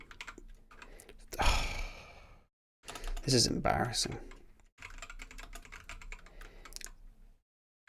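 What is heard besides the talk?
typing on a computer keyboard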